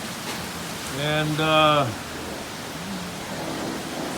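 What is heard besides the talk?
heavy rain during a tropical downpour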